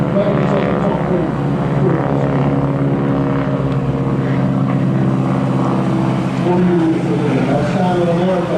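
Propeller aircraft of the Breitling wingwalker team perform at the Rhyl airshow, a loud continuous engine drone with a rising and falling pitch as the planes manoeuvre overhead, and an announcer talks over it.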